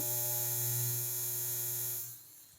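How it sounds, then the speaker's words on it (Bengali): A low-cost electric hair and beard trimmer running steadily, a close, even motor buzz with a strong hum that holds for about two seconds and then cuts off as it is switched off. "এবং মেশিনের সাউন্ডটা যদি আপনাদেরকে একটু শোনাই, তাহলে আপনারা সাউন্ডটাও বুঝতে পারবেন।"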